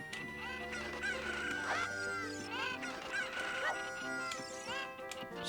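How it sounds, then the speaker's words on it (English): Chickens cluck and squawk in The Legend of Zelda: Ocarina of Time on the Nintendo 64, a string of bright fowl calls over the game's continuous background music. "Just throwing chickens around"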